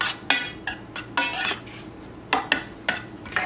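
A spoon mixes a sauce with crushed red pepper in a bowl, sharp clinks and scraping taps arriving in quick irregular bursts, close and clear with no talk.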